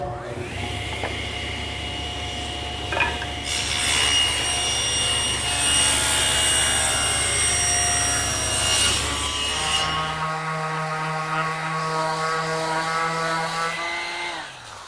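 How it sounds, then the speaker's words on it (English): A saw ripping two narrow rails from a wooden board for the front of a bedside table, a steady loud whine that drops in pitch toward the end as the cut finishes and the blade spins down. "I'm going to use this piece to rip two 1 1/4 inch rails for the front of the table."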